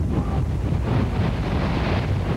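Strong storm winds sweep across Europe in gusts up to 96 miles per hour, a steady, dense roar with heavy low rumble buffeting the microphone, with no voices.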